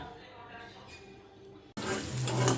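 Onion, green chili and garlic hit hot oil in a home kitchen and break into a steady, loud sizzle right after a quiet moment with faint background sound.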